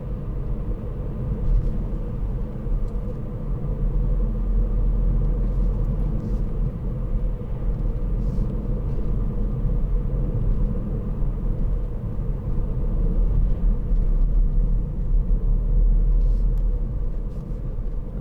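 A 2018 Ford Fiesta 1.0 EcoBoost ST-Line X cruises on a dual carriageway in sixth gear, a steady loud low engine and road rumble inside the cabin, constant throughout with no talk.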